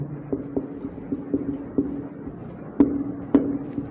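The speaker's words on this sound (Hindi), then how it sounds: "तो हम यहाँ लिखेंगे" Chalk or marker strokes on a board during a Class 12 maths lesson on inverse trigonometry, a series of short taps and scratchy strokes, one after another at close range, with no talking.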